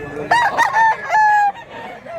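A rooster crows in a drawn-out, loud call near the listener, rising and holding through several tonal segments before fading, with faint background noise after.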